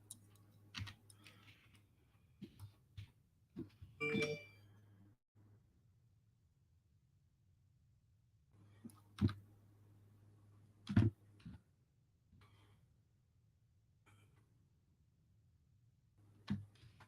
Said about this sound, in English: I need to get better at my typing.